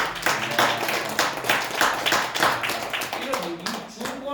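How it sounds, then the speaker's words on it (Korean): A church congregation claps to welcome a new member: several seconds of steady, moderately loud applause from many hands in a room. "박수로 환영합니다"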